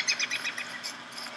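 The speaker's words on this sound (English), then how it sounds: "Oh, bird." A bird in the video game Don't Starve gives a run of quick, bright chirps, several short calls in close succession, clear and near.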